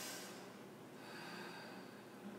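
A single slow, deep breath drawn and let out close to the microphone, soft and airy over a faint steady background hiss, with no talking.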